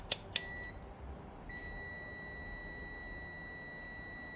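Two short sharp beeps from a multimeter on continuity test of a 1974 Kawasaki Bighorn 350 motorcycle ignition switch, followed by a steady thin electronic tone that holds through the rest, close and fairly quiet over faint background hiss.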